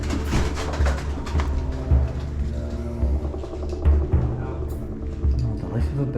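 Pigeons and doves coo repeatedly at a care home, a low rhythmic cooing recurring every second or two with a constant rumble beneath and people talking nearby.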